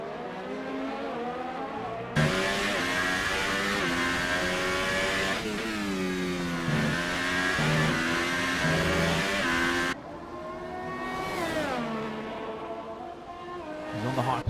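Formula 1 race car engines from an F1 eSports video game at the Canadian Grand Prix, high-revving and loud, pitch climbing and dropping through gear changes, with commentators talking over the racing throughout.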